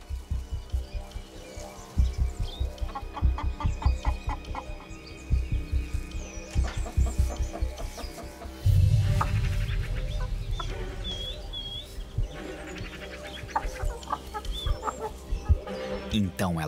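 Chickens cluck inside a chicken coop, a run of short repeated clucks and calls at moderate loudness, with a few brief louder bursts.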